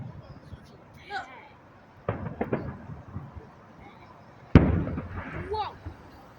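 Ford fireworks display in Detroit: sharp bursts and crackling explosions at a moderate distance, a cluster around two seconds and a loud bang near four and a half seconds, with onlookers talking between them.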